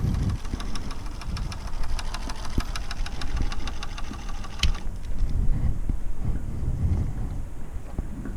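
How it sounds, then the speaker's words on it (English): A 1990s–2000s stereo CD player's tray gear runs on endlessly with the tray removed, a rapid mechanical whirring and ticking that cuts off partway, leaving a low rumbling hum. "the CD tray isn't actually in, so the gear is just running endlessly"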